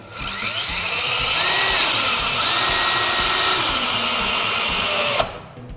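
A power drill drives a Kameleon composite deck screw into gray PVC decking board, a loud, steady whir of about five seconds that rises slightly in pitch before stopping abruptly.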